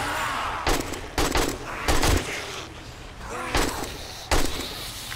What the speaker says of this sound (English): I have a pretty bad spread on this gun, so I gotta squeeze the trigger lightly here